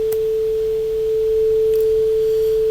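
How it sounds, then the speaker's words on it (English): A steady, plain sine tone generated by Omni code running in SuperCollider, sustained at an even level throughout with faint background noise and no talk. "this sine wave, of course, is Omni code running in Super Collider"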